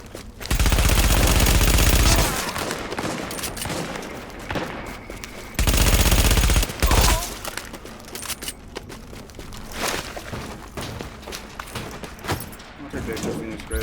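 AK rifle gunfire in the video game The Division, two long loud bursts of rapid automatic fire followed by scattered shots and game noise, with someone talking over it.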